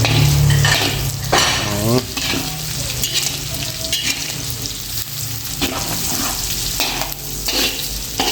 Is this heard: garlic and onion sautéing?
yes